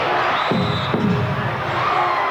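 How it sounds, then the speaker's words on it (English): A basketball crowd at a 1986 NBL grand final between the Brisbane Bullets and Adelaide 36ers chanting and yelling defense, a dense continuous roar of many voices filling the arena. "The crowd is yelling defense."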